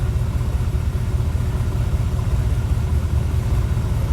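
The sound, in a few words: 1975 Chevrolet Corvette engine idling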